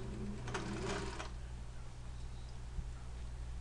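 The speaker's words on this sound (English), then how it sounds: "I'm just basting this in right now, so we can get an idea." A sewing machine basting a jacket seam runs in a brief steady burst of rapid stitching early on, then gives way to a low, constant motor hum with a faint click.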